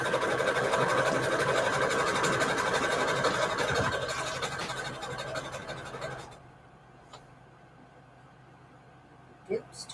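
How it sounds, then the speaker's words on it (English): Sewing machine running a zigzag stitch around a Christmas collage journal card, a loud continuous mechanical whir for about six seconds that then stops, followed by quiet with a couple of small clicks. "for this one I am going to do a zigzag stitch all the way around"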